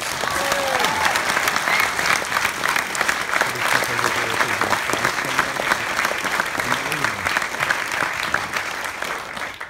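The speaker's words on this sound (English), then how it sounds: "I think they deserve a huge round of applause." Enthusiastic applause from a school audience after a contact with the International Space Station, dense and continuous for nearly ten seconds, with faint voices mixed in underneath.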